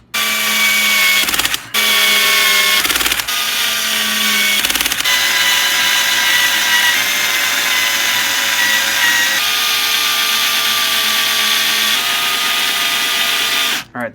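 Power driver tightening screws on a Tekno EB48 2.2 1/8-scale RC buggy chassis, a loud whining motor in several bursts with short pauses between, the pitch steady during each long run.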